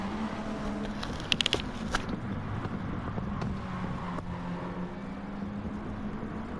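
M4 race cars in a sprint race pass with a continuous engine drone that holds fairly steady, a few brief clicks and ticks breaking in near the start.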